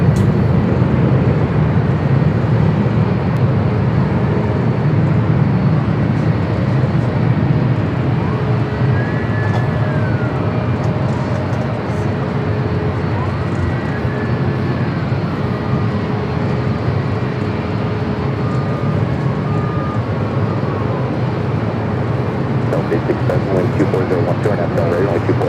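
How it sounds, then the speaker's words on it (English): A Japan Airlines jet arriving from Osaka approaches LAX, a steady distant engine drone with rising and falling whines over a continuous airport rumble. "Flight coming in from Osaka, Japan, the third"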